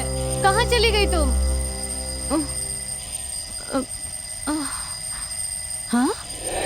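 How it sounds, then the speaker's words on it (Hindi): An alarm rings in a Hindi-dubbed South Indian horror thriller scene: a fast trill of bell-like tones comes first, then shorter chirping bursts repeat every second or so over a quiet background. "अलार्म बज रहा है"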